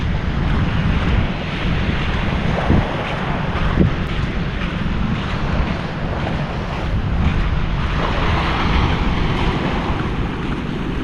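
Large ocean waves crash and churn against the shore of a small sandbar island off Siargao in the Philippines, a loud, unbroken surf roar mixed with strong wind rumble on the microphone.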